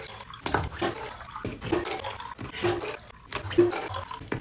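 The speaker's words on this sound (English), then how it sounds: "Next, I'm filling these up with water." Water running and splashing as containers are filled, a close, uneven rushing and gurgling that swells and dips in bursts over several seconds, with no voices.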